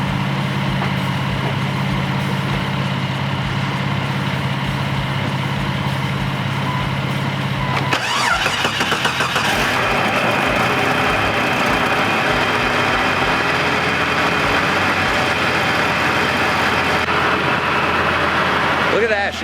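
A Jeep Cherokee engine turns over and catches after fuel cleaner is added, then settles into a steady, loud idle that runs on continuously.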